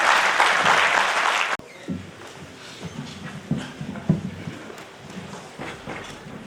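A seminar audience applauds as a chief guest is welcomed onto the stage. The clapping is loud and dense for about a second and a half, then cuts off abruptly, leaving quiet room noise with thumps and shuffling footsteps.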